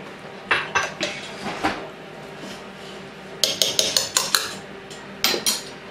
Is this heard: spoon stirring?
yes